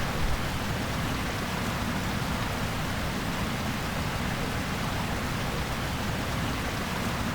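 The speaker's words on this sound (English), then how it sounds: "Sounds like there may be a waterfall on the other side there or something." Rushing water like a waterfall in the Myst III game world, a steady, loud broadband roar that continues unchanged throughout with no breaks.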